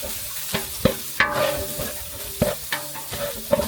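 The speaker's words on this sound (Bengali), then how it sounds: "বাটা মশলা ভাজা হয়ে গেছে এখন আমি দিয়ে দিচ্ছি গুঁড়া মশলা" Ground garlic, cumin and ginger paste frying with added powdered spices and chilli powder in a pan, a low sizzle punctuated by repeated scraping and tapping strokes of a stirring spoon at an uneven rhythm.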